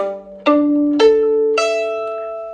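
Four sustained bowed notes on a violin's open strings played one after another, each ringing clearly on its own, loud and close with no voices.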